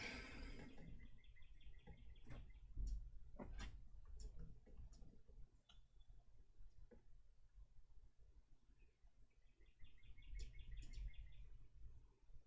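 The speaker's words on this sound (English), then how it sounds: "Serious birds here." Birds chirp outdoors in short bright bursts, a pair of repeated twittering phrases at the start and end with scattered single tweets and clicks between, fairly faint over a low steady hum.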